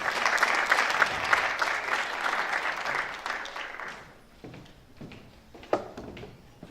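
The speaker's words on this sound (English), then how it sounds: "Let's give her a round of applause" Audience applause, steady and lively for about four seconds, then fading into a few scattered claps.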